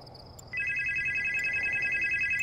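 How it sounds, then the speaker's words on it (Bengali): A telephone rings with a steady electronic trill that starts abruptly and continues without pause, clear and close. "কিছুক্ষণ পর আবার সেটা বেজে উঠতেই এবার ফোনটা রিসিভ করে কানে লাগিয়ে শরণ্যা জিজ্ঞেস করল"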